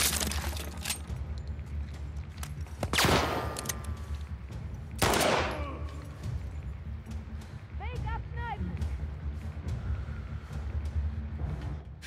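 A few sharp gunshot cracks in the video game The Last of Us Part II ring out, separated by pauses, over a low background hum, with softer clicks and metallic tones in between.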